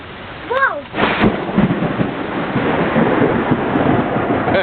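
Thunder rolling during a rainstorm seen from a deck, a loud rumbling boom over steady rain hiss, with a brief high voice exclamation just before it.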